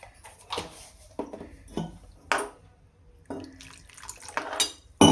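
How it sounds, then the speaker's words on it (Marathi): Water is splashed in short pours and clinks into a pan of Dhaba-style cluster bean curry, forming a series of brief splashes and metallic knocks close by. "थोडंच पाणी टाकते, खूप जास्त नाही टाकायचं."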